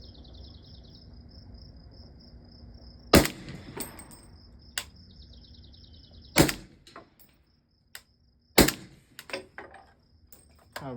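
A rifle fires Atomic 7.62x39mm 220-grain hollow point rounds from a magazine in sharp, loud single shots, with a few seconds between them. Crickets chirp steadily behind the shots, and faint clicks and clatter fill the gaps.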